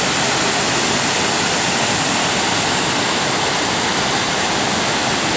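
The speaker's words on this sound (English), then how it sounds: "waterfall, the end of the trail." A powerful waterfall swollen by heavy rain roars at the end of a hiking trail, a loud, steady, broadband rush with no breaks and no voices.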